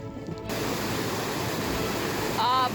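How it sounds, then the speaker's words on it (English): Bowron Creek Falls, a small cold creek waterfall just upstream from a campsite, a steady broadband roar that swells in near after a brief quieter start, with a short voiced sound near the end. "Bowron Creek Falls, just upstream from campsite 26."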